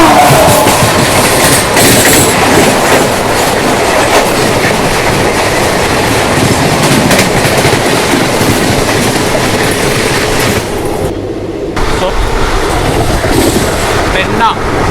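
A Nagarsol–Chennai Express passenger train rolls along the rails with a loud, steady rumble and clickety-clack of wheels, heard close from on board, with a brief quieter dip near the end.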